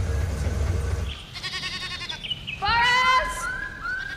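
A goat bleats several times in quick succession, wavering nasal cries that rise and fall over a noisy background with a low rumble at the start.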